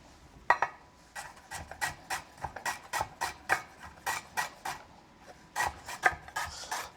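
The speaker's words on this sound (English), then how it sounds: "now that I've thinly sliced through all of our lemongrass here" A knife slices thinly through lemongrass on a wooden cutting board, a steady series of short crisp cuts close by, quiet, with no talk.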